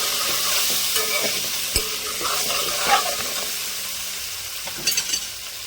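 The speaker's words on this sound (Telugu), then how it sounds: "కొంచెం అల్లం వెల్లుల్లి పేస్ట్, పసుపు, ఒకసారి కలుపుకున్నామండి" Ginger garlic paste and turmeric being stirred in a hot pan for an egg curry, a steady soft sizzle with scraping strokes and a few sharper clinks near the end, close and without voices.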